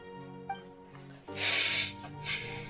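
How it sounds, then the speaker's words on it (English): A person sniffling: a short nasal sniff early on, then a longer, louder, breathy snort through the nose, followed by a shorter second one, close up with faint tonal background music. "I'm getting the sniffles."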